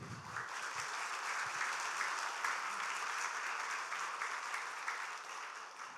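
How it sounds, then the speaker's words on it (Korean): A church congregation breaks into applause during a Sunday morning service, a dense, even patter of clapping sustained throughout at moderate volume in a large room. "예상치 못한 박수가 나왔네요."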